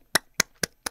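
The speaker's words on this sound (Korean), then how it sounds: "어쨌든 박수." Four sharp, evenly spaced hand claps, close and crisp, separated by silence during a music lesson.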